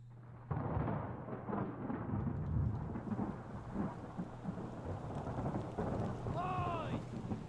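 Heavy rain pours and deep thunder rolls and rumbles through a storm in the sailing-ship game Return of the Obra Dinn, steady and enveloping, with a brief creaking or groaning sound near the end.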